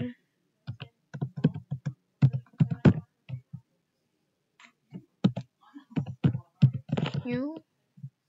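Computer keyboard typing, clusters of crisp close key clicks in short bursts separated by pauses, with a few faint voices underneath.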